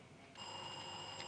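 A quiz contest buzzer sounds partway in, a steady electronic ringing tone that starts abruptly and holds to the end, fairly faint and alone.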